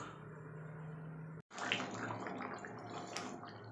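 New potatoes for aloo dum simmer in water in a pot, giving a steady, close bubbling and watery churn that breaks off briefly before resuming.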